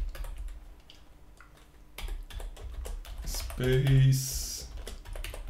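Typing on a computer keyboard, a steady run of light, close key clicks with pauses, under someone talking quietly.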